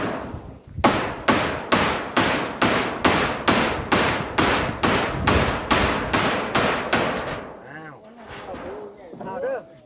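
Fifteen or so loud, evenly spaced hammer blows drive large nails in a steady rhythm, then stop, followed by a few brief voices nearby.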